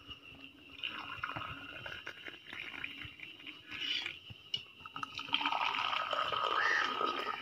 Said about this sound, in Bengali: রং চা, চাটাকে ঢেলে নিই এখন